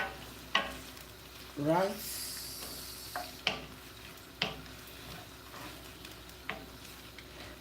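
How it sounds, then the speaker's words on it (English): Onions sauté in a pan, a low sizzle running under intermittent sharp clicks and scrapes of a utensil stirring against the pan, with a brief word spoken by a nearby voice. "I add it into these onions because the onions is doing the sauteing"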